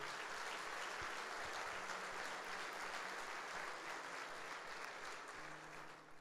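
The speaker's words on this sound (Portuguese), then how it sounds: "Dá um aplauso a Jesus." A church congregation at a Sunday service applauds steadily, a dense wash of clapping that fills the room, with a voice faintly audible beneath it.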